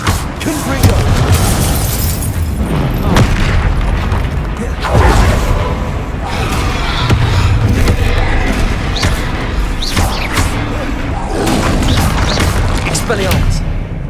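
Repeated Confringo blasting spell explosions thud and crash through a busy spell fight with a troll in the video game Hogwarts Legacy, mixed with other impacts and shouted voices.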